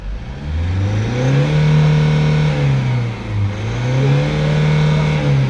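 Diesel engine of a 2014 Hyundai Grand Starex with a D4CB engine, suffering low power and heavy black smoke, revving up to about 4,000 RPM in two loud, rising and falling sweeps with no talking.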